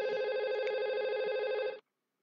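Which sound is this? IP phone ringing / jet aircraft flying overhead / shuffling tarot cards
IP phone ringing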